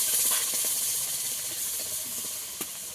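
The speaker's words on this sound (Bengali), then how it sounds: "এবার তালটাকে ভালো করে একটু ফুটিয়ে নেব, যাতে করে তালের কাঁচা গন্ধটা চলে যায়।" Palm fruit pulp boiling in a pan, giving a steady broad hiss and bubbling sizzle throughout, close and fairly loud, with a single small pop near the end.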